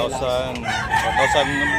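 A rooster crows nearby at a Tabunok cockfighting gathering, a loud drawn-out call rising and wavering over about a second and a half, with crowd noise underneath.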